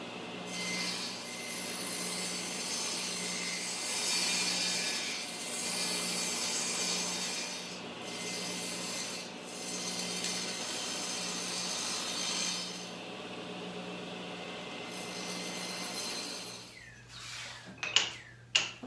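A miter saw set at a 23-degree angle cuts through wood for a garden trellis, giving a steady, sustained grinding rasp for most of the stretch before it cuts off, followed by a few brief clunks and knocks near the end.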